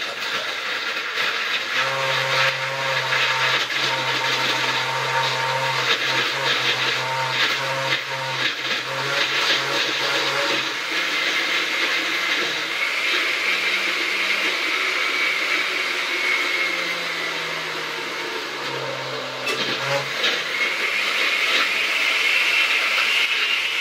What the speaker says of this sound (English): You got to make sure you have a powerful blender.